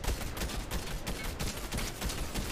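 Rapid gunfire in the video game Fortnite, a dense continuous volley of shots blending into a steady crackling roar throughout.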